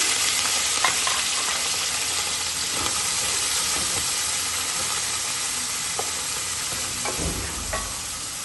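Steady sizzling hiss of onions frying in hot oil in a karahi, with occasional clinks and stirring scrapes, continuous and fairly close.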